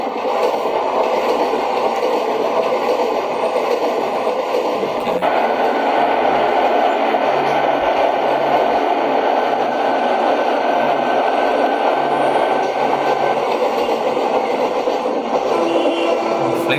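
A passenger train hauled by a WAP-4 electric locomotive runs at speed between Tambaram and Chengalpattu, heard from aboard as a loud steady rushing rumble with occasional faint wheel clacks throughout.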